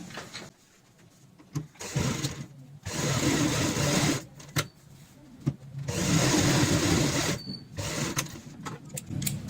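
A sewing machine runs in several bursts of steady whirring stitching, with short pauses between runs, as leaves are stitched onto a cushion cover.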